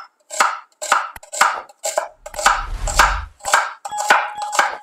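A knife chops a medium dry onion into thin slices on a board, about nine crisp, evenly spaced cuts sounding close and loud with no talk, one heavier thud midway.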